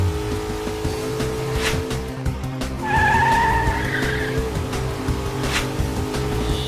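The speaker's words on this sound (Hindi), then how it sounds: "गाड़ी रोक हनी। ब्रेक काम नहीं कर रहा ह" Cartoon car with failed brakes skidding, a wavering tire screech rising over a noisy, busy backdrop for a few seconds amid engine rumble.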